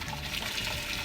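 Water running steadily into a cooking pan before boiling it for rice to serve with grilled fish, a continuous close pour with no talk.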